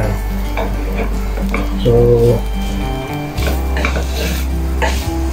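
Beef and tripe being sautéed in a pot for Ilokano papaitan: a spoon scrapes and clinks against the pot over a low sizzle, close up, while a person talks throughout.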